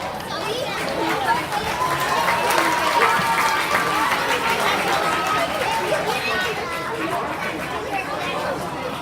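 Applause at an athletics banquet rolls steadily through the room, dense and continuous, mixed with loud crowd chatter and a few children's voices over the whole stretch.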